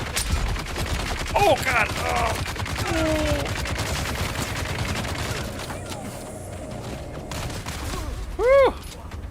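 Heavy machine gunners in the video game Dune: Awakening fire dense, rapid bursts of gunfire that run steadily through the stretch at moderate loudness, while a player exclaims over it.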